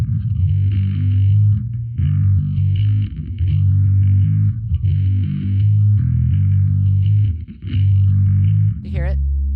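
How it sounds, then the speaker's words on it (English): Heavily distorted electric guitar fed through a phaser pedal placed after the distortion, chugging loud riffs with a sweeping, swirling tone, briefly pausing between phrases and ending on a short squeal. "the phaser's like taking that big distorted sound going"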